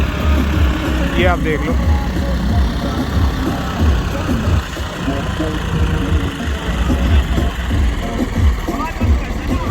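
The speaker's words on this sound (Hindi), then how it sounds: "ट्रैक्टर बंद होने लग रहा है अब, ये देखो।" A tractor engine labours while pulling through freshly ploughed soil, a loud, continuous low rumble that strains and dips, with someone talking over it.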